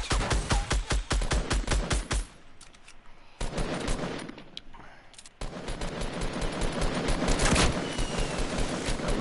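Fortnite gunfire in loud, rapid automatic bursts, rattling fast near the start, pausing briefly, then returning as sustained fire that builds toward the end.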